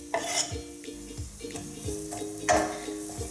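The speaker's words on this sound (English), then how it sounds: "Saute them until they're nice and golden brown." Onions sautéing in a splash of extra virgin olive oil for tomato sauce, a soft steady sizzle with clinks and scrapes of a utensil stirring the pan, stronger bursts near the start and around two and a half seconds.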